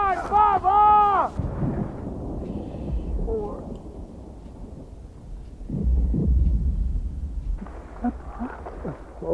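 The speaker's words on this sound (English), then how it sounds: "No, that's the airstrike that Lieutenant Dan called in." Airstrike explosions in the war film Forrest Gump, heavy low booms rolling in waves across several seconds, mixed with film score and brief voices, loud and rumbling throughout.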